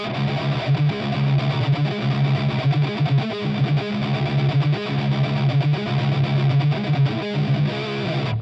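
Electric guitar played through heavy distortion with an effects unit, a loud, dense, sustained riff with rhythmic chugging and no talk.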